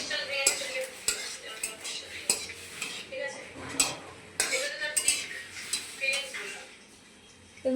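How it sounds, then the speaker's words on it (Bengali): Spoon scraping and clinking against a cooking pot as food, likely rice, is stirred, with a run of close metallic knocks and scrapes in an indoor kitchen and faint voices in the background. "আমি একটুখানি নাড়িয়ে দিই।"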